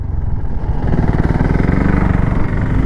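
A 2025 Bajaj Pulsar NS125 motorcycle engine runs loud and close, a steady throbbing mid-pitched drone with a slight rise as it pulls, alone without talk.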